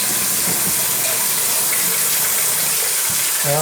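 Water runs and gushes steadily while an e-Machine 600is is soaked and scrubbed clean. The hiss is loud, dense and unbroken, close by, with no voices over it.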